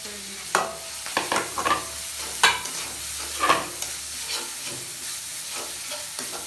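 Onion and garlic paste frying in a pan with a spoon stirring it, a steady sizzle broken by scraping strokes at an uneven rhythm, close and alone with no voices.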